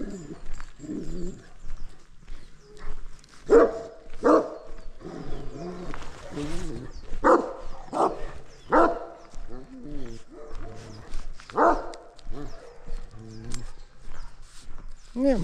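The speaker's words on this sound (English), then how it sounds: "Marley here, he's really a sweet dog. Very mellow. The Akbash is typically pretty mellow" A big Akbash dog barks in a series of loud, spaced woofs close to the microphone, with a person talking between and over the barks.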